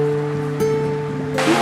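Water rushes down a pipe from a catch pond toward a turbine, a steady broadband roar with a low tonal hum beneath it.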